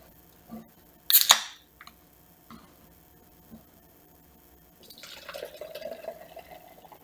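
A sharp click, a quiet pause, then hazy IPA beer pours into a glass with a rising, gurgling fill tone that continues to the end.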